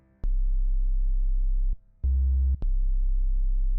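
A Novation Bass Station II synthesizer plays its sub-oscillator alone, giving a loud, pure, deep sustained tone that cuts off briefly and returns a few times.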